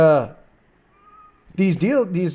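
A domestic cat meows indoors in two or three close, clear, drawn-out cries after a brief earlier call. The cries are otherwise heard alone.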